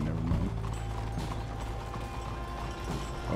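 Horse hooves clip-clop in the game Red Dead Redemption 2, steady rhythmic thuds on the road mixed with creaking, rattling tack, close and fairly loud throughout.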